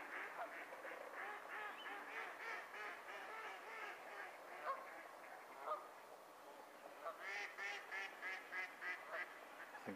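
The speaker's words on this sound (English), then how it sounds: "As you can hear from the ducks, they're like that all the time." Ducks on a carp fishing lake in winter give a steady stream of repeated quacking and honking calls that carry faintly from a distance, with brief gaps.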